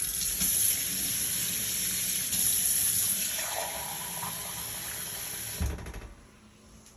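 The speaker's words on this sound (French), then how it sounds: "On fait couler de l'eau très très chaude pour le diluer." Very hot water runs from a kitchen tap into a tall glass in a steady, close splashing stream that gradually softens before the flow is shut off near the end.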